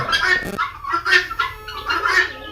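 Laying hens on a poultry farm cluck in short, uneven bursts, close by, with a few sharper squawks mixed in.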